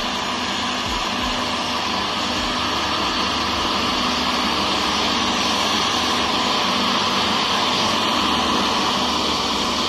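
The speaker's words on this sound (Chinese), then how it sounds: "发动机、卷扬机也在后面。" Steady, loud engine drone from an integrated box girder beam transport machine carrying a high-speed rail box girder, a continuous broadband rumble with a low hum and no change in level throughout.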